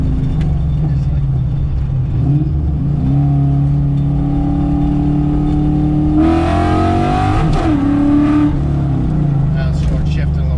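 Ford Mustang engine running steadily, rising in pitch as it revs through a short-shifted gear change, with a brief louder surge midway, close and continuous, under talk.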